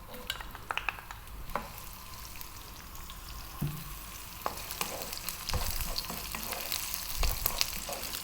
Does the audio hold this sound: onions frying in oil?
yes